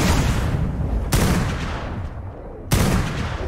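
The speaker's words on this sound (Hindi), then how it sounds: "इतनी गोलियां मार रहा हूं ना इनको" Two sharp bursts of rapid gunfire from the video game ARK with the Primal Fear mod, each cutting in abruptly, with a rumbling tail between them.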